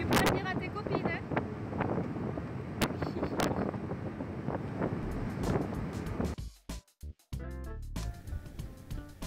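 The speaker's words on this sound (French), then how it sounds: "Ça te plaît de prendre le bateau?" Wind buffets the microphone steadily on a boat ride along the Moroccan coast, with a low engine rumble beneath, brief voices, and the noise dropping out in short gaps near the end.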